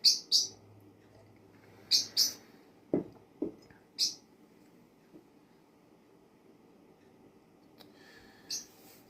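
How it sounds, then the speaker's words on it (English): A pet bird chirps indoors in short, bright bursts, a pair near the start, another pair around two seconds, one more at four seconds and a last chirp near the end, with quiet room tone and a few low knocks between. "Excuse my bird."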